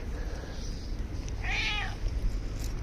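A pet cat meows loudly near the door at a bike, one drawn-out bright meow in the middle with fainter mewing before and after over soft background noise.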